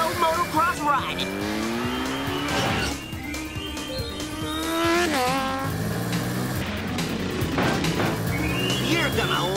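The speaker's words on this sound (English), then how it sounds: "I'm doing some Mondo motocross riding." Cartoon motocross bike racing in the Adventures of Sonic the Hedgehog, with loud revving engine whine, squealing tires and skids running continuously over music and voices.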